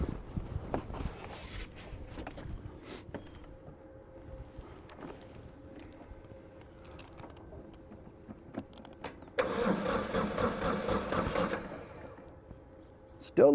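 A Kubota B2620 tractor engine, still a little cold, turns over and catches near the end after a stretch of quiet clunks and rustles, then runs as a loud, rough burst before settling.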